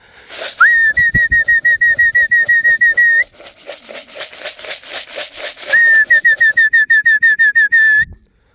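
A shrill whistle trills in rapid bursts, broken by a pause, while wings flutter and clatter nearby as racing pigeons come in to the loft.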